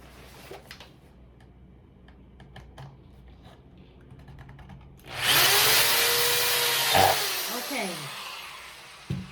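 Quiet clicking and shuffling, then a loud power drill whirs steadily from about five seconds on, rising in pitch as it bores through a cup-turner motor mount, close by.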